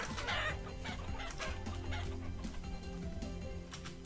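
Chickens cluck steadily at close range in the video game Vintage Story, with a busy run of overlapping clucks and no talking.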